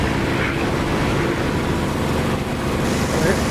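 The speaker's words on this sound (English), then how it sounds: "It's an engine inside a canopy." A jet engine roars steadily from inside a closed canopy in DCS, a dense, muffled broadband rumble that holds at an even, loud level throughout.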